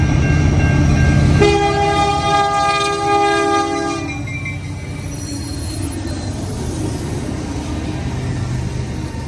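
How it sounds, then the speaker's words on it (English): A fast southbound freight train with 92 cars passes close by, sounding a loud chord horn for a few seconds, then giving way to the sustained rumble and rattle of the passing freight cars. "this is the fastest southbound freight train I ever seen here"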